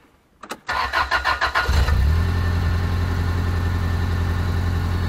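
A Toyota Previa fresh from a spark plug change cranks with a quick run of rhythmic starter pulses, catches, and settles into a steady, even idle, close and loud, with no one speaking.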